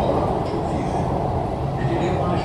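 A Howrah metro train at the station produces a steady, loud rumble that fills the whole stretch without a break, with no distinct clatter or announcement standing out.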